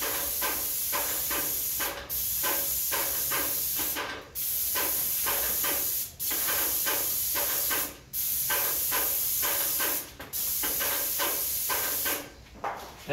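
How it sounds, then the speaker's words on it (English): An airless sprayer applying varnish to a door, producing loud steady hissing spray bursts of about two seconds each, separated by short regular pauses as the trigger releases between fast passes. "when you're spraying this product, you don't wanna go slow. You wanna go fast."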